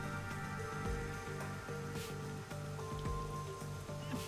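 Rain pours in the video game Rain Code, a dense steady patter on surfaces layered under a soft repeating musical backdrop.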